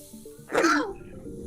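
A single harsh cough, close and brief, rising sharply then trailing off into quiet background.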